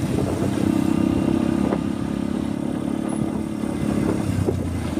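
A motorcycle cruises along a road with steady, loud engine drone and wind rumble, overtaking traffic in a continuous pass without any talk.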